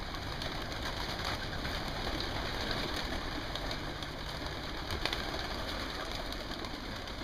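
Young pigeons of the 2011 hatch released from their loft on a warm morning, with a steady broad outdoor wash of soft cooing and wing movement carrying evenly throughout, no voices.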